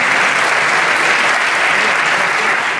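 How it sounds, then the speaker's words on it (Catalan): Theatre audience at a Christmas concert applauding, a dense, steady wash of clapping from many hands, loud and continuous throughout with no pauses. "I ara un aplaudiment també"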